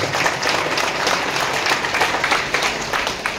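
An audience claps hard for a senior at a business-plan gathering, a dense, continuous patter of many hands, loud and steady throughout with no talk over it.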